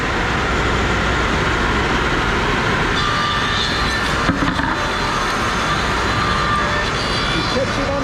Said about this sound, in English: We're ready to plane.